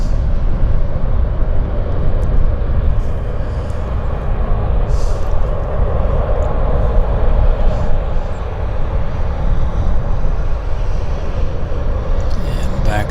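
A corporate jet at Vancouver Airport rumbles with a steady, loud engine roar that stays constant over the whole stretch, with faint radio chatter in the background.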